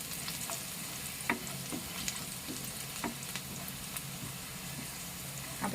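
Garlic and a dahi tikhari mixture of curd sizzle steadily in a pan, a continuous frying hiss broken by a few soft scraping stirs, fairly quiet and with no voices.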